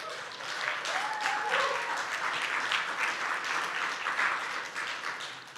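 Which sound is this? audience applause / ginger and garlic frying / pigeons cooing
audience applause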